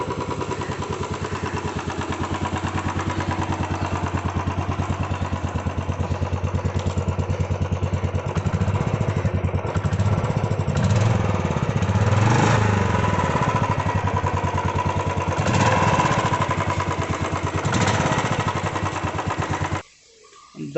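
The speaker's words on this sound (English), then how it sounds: "The sound of VS6 Norms engine of Royal Enfield 350cc Classic is totally different" A Royal Enfield Classic 350 BS6 single-cylinder motorcycle engine idles close up with a steady, loud thumping beat that runs for about twenty seconds before briefly cutting out near the end, with no talk over it.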